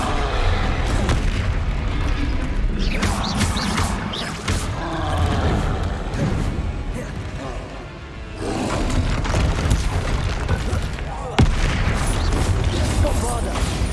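Repeated heavy booms and blasts from the Bombarda spell in Hogwarts Legacy, a dense run of loud explosive impacts amid continuous battle noise and spell sounds, with a sharp bright crack near the end.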